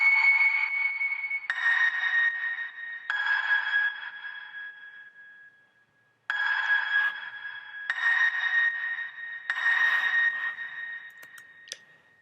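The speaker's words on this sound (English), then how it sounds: "Okay, so the next sound I have here is a piano," A stock grand piano run through an auto pan, heavy compression and an EQ that cuts the lows and mids, giving a thin, bright tone in a chillout track; several sustained chords play one after another, with a brief gap midway.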